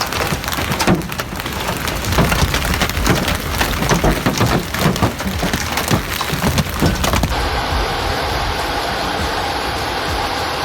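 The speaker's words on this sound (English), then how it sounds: "a severe hailstorm left many people stunned by its rare intensity" Dense, heavy pelting of hail on surfaces during a severe hailstorm in Istanbul, a loud continuous roar that shifts abruptly to a steadier hiss near the end.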